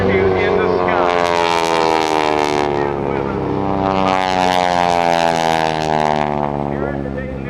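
Aeroshell aerobatic team propeller airplanes flying in formation at the Dayton Airshow, a loud droning engine roar with layered steady tones that swells twice as the planes pass, heard with a voice speaking over it.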